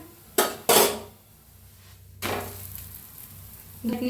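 Puran poli roasting on a griddle over a full gas flame, with a low continuous sizzle broken by a few sharp bursts of scraping and turning.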